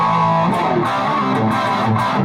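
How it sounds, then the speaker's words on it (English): Distorted electric guitar riff, dense overdriven strums with sliding bends and a few sharp pick attacks, loud and continuous over about two seconds with no talking. "because we go into the solo from this riff, and the riff sounds like this."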